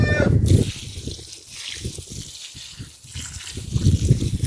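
Water poured from a bucket onto a blueberry bush splashes and trickles into soil, heavier at the start and end with softer dribbling between.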